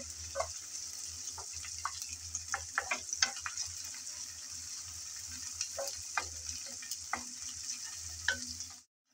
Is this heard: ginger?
yes